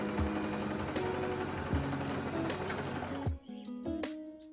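A sewing machine joins two fabric pieces into one long strip, giving a steady close mechanical whir with rhythmic knocking that stops abruptly, followed by a few faint clicks.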